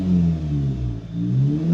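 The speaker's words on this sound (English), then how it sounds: "give it some rev" An Audi S3 8V in dynamic mode revs briefly in neutral while parked: a close, steady engine drone that dips slightly midway and then climbs again, with no crackles or pops.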